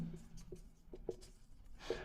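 Faint, brief strokes of writing on a classroom board during a physics lesson, a few scattered scratches in a quiet room.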